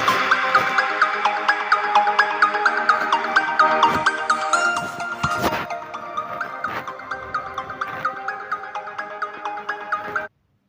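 A recorded ringtone plays from a Redmi 9i phone, a bright repeating electronic melody of quick notes in a steady loop, loud and close, ending abruptly.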